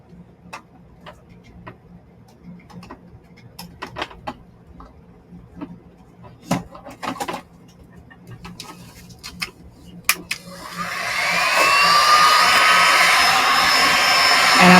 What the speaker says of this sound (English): Actually, I'm going to get my heat gun.